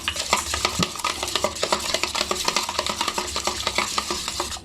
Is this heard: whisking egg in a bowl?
yes